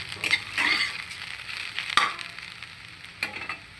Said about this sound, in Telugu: క్యాబేజీ అయితే ఫ్రై అయిపోయింది